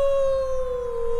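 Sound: wolf howl in a video game

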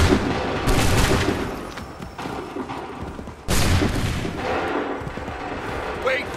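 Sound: volley of musket fire in Assassin's Creed 3 video game

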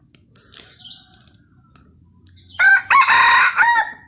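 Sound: rooster crowing

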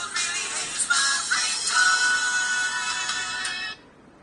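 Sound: custom phone ringtone

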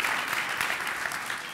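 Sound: audience applause

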